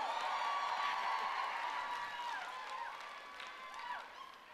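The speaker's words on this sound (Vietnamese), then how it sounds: "một lần nữa một tràng pháo tay cho Jessica and Jennifer." Audience applause and cheering at a casino show, sustained and dense for several seconds and tapering slightly toward the end, with crowd noise and faint voices mixed in.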